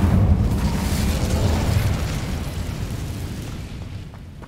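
A fiery Incendio spell cast in Hogwarts Legacy, a loud rumbling burst of flame that roars at once and slowly fades over several seconds, with no voices.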